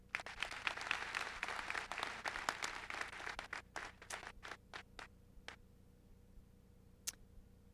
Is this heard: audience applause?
yes